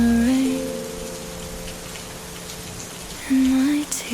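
Steady rain patters on glass as a constant hiss, laid under soft, sustained musical tones that swell at the start and near the end.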